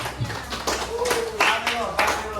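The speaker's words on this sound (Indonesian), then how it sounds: "Tepuk tangan untuk kelompoknya." Classroom applause for a student group presenting at a high school, a few scattered claps in short bursts with a voice speaking over them.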